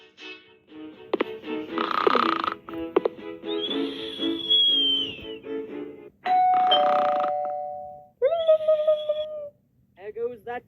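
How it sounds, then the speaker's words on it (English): A doorbell chimes several times in the video game Scary Teacher 3D, with clear tonal dings among other game sounds and effects, moderately loud. "There goes that stupid bell again."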